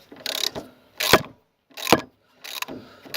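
A wrench works loose the lower ball joint nut on a Citroën BX 14 with the XY engine, giving several separate bursts of ratcheting, clicking metal with short silent gaps between them.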